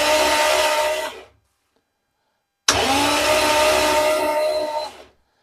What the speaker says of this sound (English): you'll hear the engine turning over